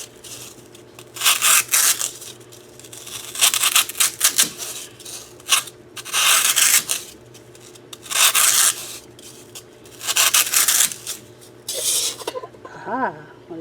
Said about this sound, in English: I'm just going to trim down the square side, because obviously it's going in a round hole